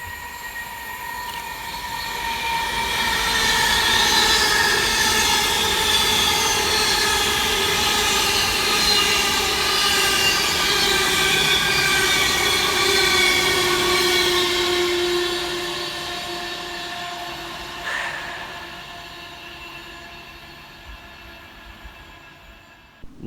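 Avanti West Coast Pendolino 390-119 rushes through Heaton Chapel station toward London Euston, a loud sustained roar with whining tones and wheel squeal building, holding for several seconds, then fading away.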